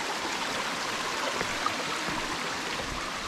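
A stream flows at a rough water crossing on the Appalachian Trail, giving a steady, close, broadband rush that holds evenly throughout with no voices.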